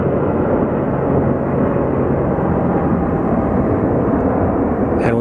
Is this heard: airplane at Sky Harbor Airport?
yes